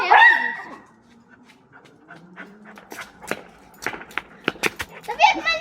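A small, newly bought dog yips and pants close by with a whimpering edge, its short bursts alternating with children's chatter in the room.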